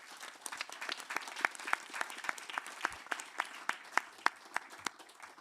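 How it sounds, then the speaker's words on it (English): Audience applause for panelists at an international environmental law expert colloquium: a modest crowd of clapping with distinct individual claps standing out, fairly faint and steady across the clip. "Let's have a round of applause for our panelists."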